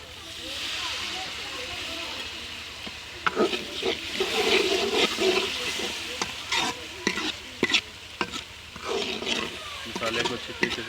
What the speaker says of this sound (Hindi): मसाले को अच्छी तरीके से भून लेंगे